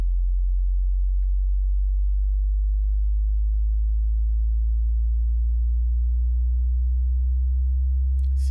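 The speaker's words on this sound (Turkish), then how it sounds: "Ve ses gitgide tizleşmeye başladı." A pure low sine tone hums steadily and slowly climbs in pitch, ending with a brief click.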